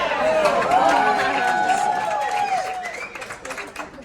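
Wedding guests cheering in a crowd, with whoops and shouts over a lively hubbub of voices that tapers off toward the end.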